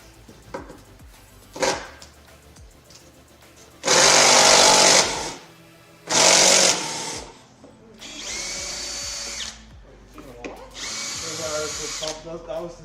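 A power driver, likely an impact driver, runs in several loud bursts of a few seconds each while building a competition robot in a workshop, with brief pauses and some background talk between runs.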